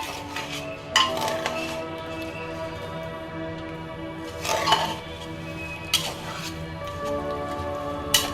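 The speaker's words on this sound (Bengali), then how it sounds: "যে যে উপকরণগুলো গেল প্রেশার কুকারে সব কিছু একসঙ্গে একটুখানি নাড়িয়ে মিশিয়ে নিই" Ingredients for Dhaka-style tehari chicken being stirred together in a pressure cooker: a steady low sizzle with scattered metallic scrapes and clinks of a spoon against the pot, close by.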